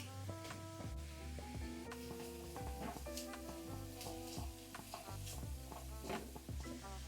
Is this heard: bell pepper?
yes